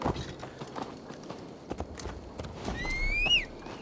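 Horse hooves clip-clopping at a walk in Assassin's Creed Valhalla, a steady soft rhythm of footfalls under ambient game sound, with a short whinny near the end.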